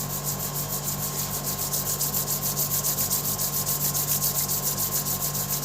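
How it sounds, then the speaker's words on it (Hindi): Palms rubbed briskly together during a breathing and eye exercise routine, giving a continuous close, even swishing friction with a slight rhythmic pulse over a steady hum. "हाथों को रब करेंगे।"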